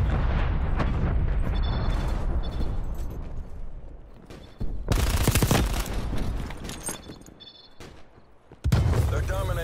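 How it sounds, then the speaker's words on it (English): Artillery strike explosions in Call of Duty: Cold War, heavy rumbling blasts and debris roars overlapping in waves, with two sudden loud impacts partway through, under a radio-style announcer voice. "Artillery inbound."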